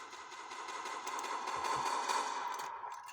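Dense, continuous rattling gunfire, like rapid automatic bursts, rolls on for a few seconds and tapers near the end.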